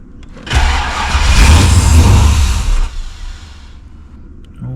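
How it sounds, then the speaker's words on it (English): A Holden VL Calais engine fitted with a Harrop 2300 supercharger is blipped once, a loud close roar that swells for a couple of seconds and then drops back toward idle. "might try a little bit of throttle this time"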